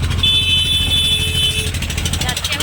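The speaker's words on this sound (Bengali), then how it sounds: "যাচ্ছি এখন বকখালি অটোতে করে।" An auto rickshaw engine drones continuously during a ride toward Bakkhali, with road rumble and voices over the steady motor noise.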